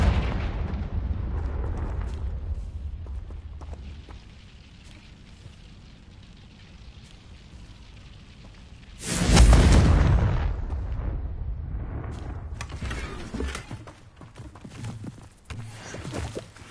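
A Confringo fire spell goes off in a Harry Potter video game on PlayStation 5, with one loud, close booming blast over a low rumbling ambience, followed by scattered crackling impacts as the blast fades.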